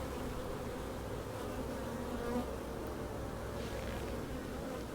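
Honeybees buzz steadily around a backyard beehive in a garden, a dense, continuous drone close to the hive with no voices over it.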